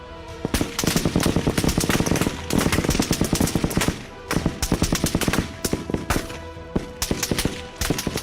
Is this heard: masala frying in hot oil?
no